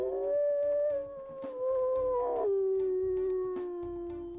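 A single drawn-out video game wolf howl, loud and close, holding a steady tone before sliding down to a lower pitch and trailing off.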